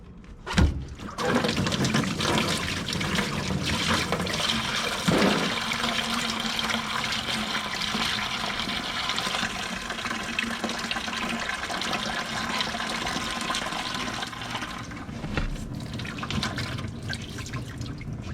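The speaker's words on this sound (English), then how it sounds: "Let it all drain out." Coolant drains from an unclamped lower hose on a Can-Am Maverick X3 side-by-side, making a continuous close splashing gush of liquid into a container that holds steady for the whole stretch, with a few clunks near the start and no voices.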